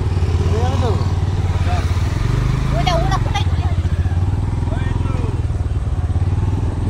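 A motorcycle rides steadily with its engine running close by, a continuous low throttle drone interrupted by a brief rev in the middle, while people talk over it on the way to a destination.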